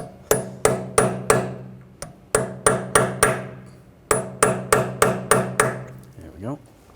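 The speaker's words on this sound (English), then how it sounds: "You want to just get underneath there, give it a tap, try to tap it out a little bit." A hammer strikes a chisel held against a peened-over rear axle nut on a 2006-2010 BMW 550i, giving sharp metallic blows in quick bursts of four or five with short pauses, loud and close, no talking.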